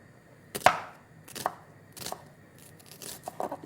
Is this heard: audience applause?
no